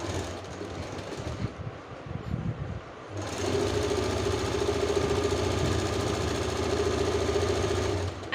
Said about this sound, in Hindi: इसे हम ऐसे डबल फोल्ड करके स्टिचिंग करेंगे और इसे टर्न कर लेंगे।